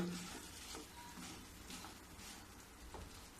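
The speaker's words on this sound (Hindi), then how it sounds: "बंद करने के बाद भी इसको थोड़ी देर मैं चलाऊंगी।" Khoa mixture being stirred in a kadhai with the gas turned off, heard as faint, soft scraping strokes repeating at a steady pace with a low sizzle beneath.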